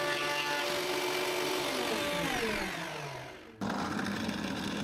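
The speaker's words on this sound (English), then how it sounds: "I use the plane to make the surface on both sides completely smooth." A plane smooths both faces of a glued-up wooden blank for a bowl, giving a loud, steady machine roar whose whining pitch slowly sinks, then drops off abruptly before a quieter rushing noise carries on to the end.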